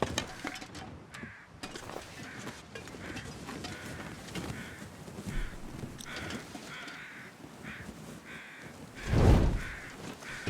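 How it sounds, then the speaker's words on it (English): Several crows caw close by in the survival game The Long Dark, with repeated harsh calls in irregular bursts over a quiet background and a sudden loud thump near the end. "Those are carrion crows, and they sound close."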